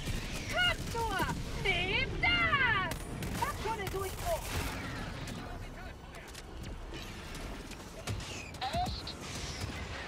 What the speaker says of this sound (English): Walking barrage incoming.